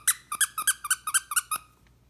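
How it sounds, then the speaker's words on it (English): A plush Rmolitty dog toy squeaks as it is squeezed, about nine quick high-pitched squeaks in a steady rhythm, loud and close, then a brief quiet tail. "It's got a little squeaky here in the middle."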